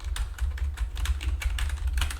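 Quick, crisp clicking keystrokes on a new budget gaming keyboard, an irregular close-up patter of taps with no talking.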